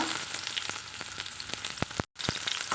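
Mustard seeds and shallots fry in hot oil, a steady close sizzle broken by sharp popping crackles of the seeds, with a brief dropout near the end.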